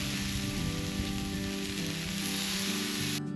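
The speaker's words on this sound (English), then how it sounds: "I pulled out the Blackstone grill and grilled some New York strip steaks" New York strip steaks sizzle on a Blackstone griddle at a campsite, a close, dense and steady crackling hiss with no talking.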